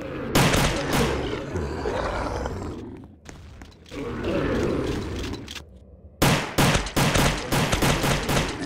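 Rapid bursts of gunfire from zombie shooting in the Roblox game Rise Of The Dead come in loud, dense volleys, break off briefly near the middle, then return as sharp, repeated shots at the end.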